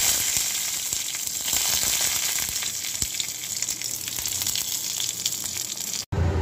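Mustard seeds and dried red chillies tempering in hot oil for an oats dosa, with a dense, bright sizzle and light crackling throughout, close and steady, cutting off sharply near the end.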